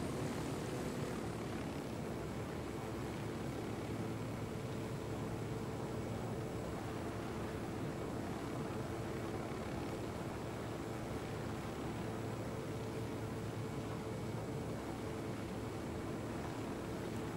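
Rotor and engine drone of a helicopter in the video game Ghost Recon Wildlands, a steady, dense roar that holds loud and constant the whole time with no talk over it.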